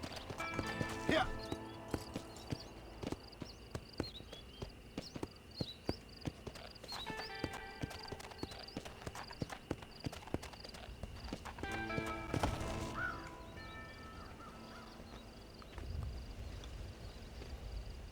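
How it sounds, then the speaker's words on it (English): Rhythmic clip-clop of horse hooves from a video game ride, steady and fairly close, with occasional snorts and whinnies and stretches of background sound throughout. "So this time we didn't had anything but to ride the horse."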